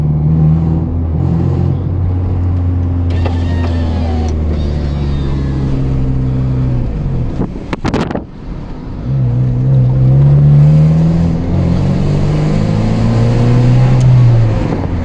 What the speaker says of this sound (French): Le pot d'échappement fait un énorme bruit.